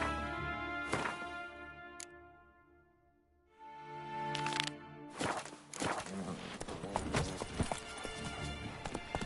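Horse hooves clip-clop on a hard surface in The Witcher 3, close and uneven, starting with a few isolated strikes and then building into a busier run of steps, with a brief snort or whinny and some background game sounds.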